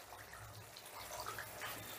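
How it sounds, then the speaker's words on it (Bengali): A cup of water pours into simmering gravy for chhanar kofta kalia, a soft, steady liquid splash and trickle, faint and brief with no talking. "এখানে আমি এই কাপটার 1 কাপ জল দিলাম।"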